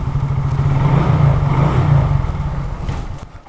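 A Hero Glamour 125 motorcycle engine runs steadily close by, a loud low thrumming idle with a faint rev swell midway that trails off near the end, with no voices over it.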